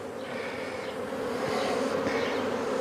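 A steady, close drone of honeybees swarming over an open hive, with many wingbeats blending into one continuous buzz that holds through the whole stretch without any voices.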